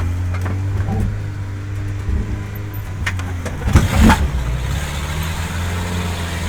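An old Soviet car's engine runs with a steady low rumble after being push-started. It swells briefly into a louder rev midway, close and continuous.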